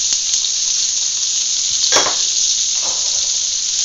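Farmer sausage and onions sizzle in a pan as they caramelize, a loud, steady hiss close by with a couple of brief stirring scrapes partway through and no voices.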